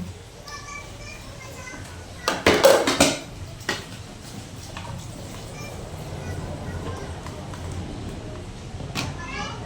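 Dishes, pots and cutlery being washed by hand, with a cluster of clattering knocks around the middle over a steady background, while people and children talk nearby.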